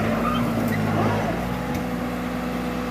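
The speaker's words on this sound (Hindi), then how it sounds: "ट्रैक्टर आ लिया दोस्तों" A New Holland 7500 tractor with a steady, loud low engine drone that holds evenly throughout, pulling an 8-foot desi jatra on farmland.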